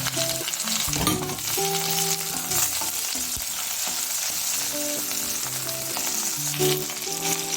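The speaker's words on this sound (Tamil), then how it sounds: "வெங்காயம் நல்லா உதங்கணும் இப்போ பச்சை மிளகா போடணுங்க" Onions and green chilies fry in a pan, a loud steady sizzle punctuated by scraping stirs from a utensil, with no voices.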